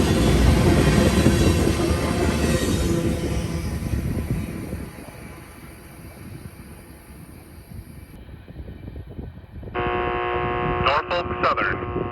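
A Norfolk Southern freight train carrying auto rack bottoms rolls past with a loud, steady rumble and wheel clatter, fading somewhat midway before a trackside defect detector's electronic tones and announcement break in near the end.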